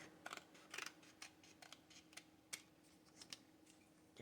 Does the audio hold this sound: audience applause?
no